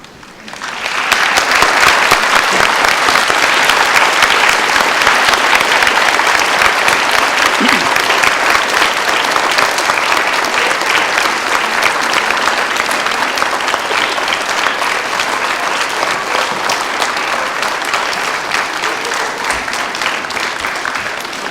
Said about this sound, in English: everyone else please give a loud applause to these veterans and their families who are present here